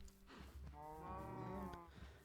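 A single cow lets out a drawn-out moo in a Minecraft modpack game world, fairly quiet and close, with faint ambient game sound around it.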